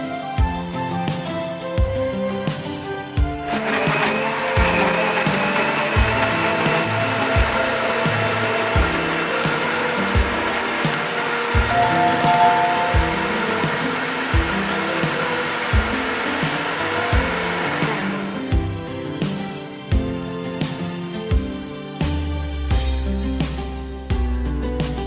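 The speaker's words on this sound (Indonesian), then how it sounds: "Blender buah nanas beserta kulitnya." A blender whirs continuously as it purees pineapple together with its skin, the motor running steadily at high speed between stretches of choppy, stuttering pulses at the start and end.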